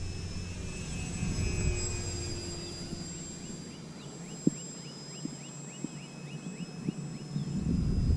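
A HobbyKing Cessna TTX electric RC plane makes a slow pass at about quarter throttle, its steady motor whine drifting overhead at moderate distance over outdoor background noise, with a few faint clicks.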